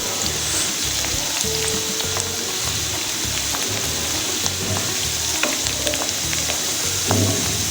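Onions frying in oil for a Namak Mandi style beef karahi, a steady loud sizzle with repeated rhythmic stirring scrapes through the pan, no voices.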